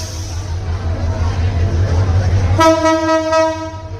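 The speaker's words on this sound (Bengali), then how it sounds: "একটা ট্রেন চলে যাচ্ছে" A train rumbles steadily nearby, then a loud horn blast sounds near the end, over a low background of voices.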